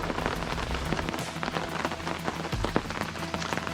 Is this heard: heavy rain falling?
yes